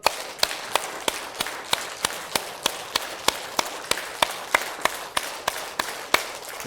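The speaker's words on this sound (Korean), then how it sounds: "자, 박수를 200번." A church congregation at a Bible lecture meeting claps hands together in unison, a steady rhythm of roughly twenty sharp, evenly spaced claps, moderately close and clear with no talking over them.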